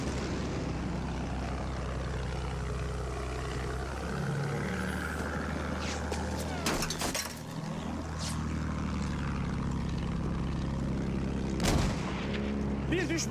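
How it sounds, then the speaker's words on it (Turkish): In Battlefield 1 on the Sinai Desert Conquest map, an enemy bomber drones overhead, its propeller engines rising and falling among heavy artillery blasts and gunfire, with an in-game voice announcing over the battle. "Bir düşman bombardıman tayyaresi görüldü."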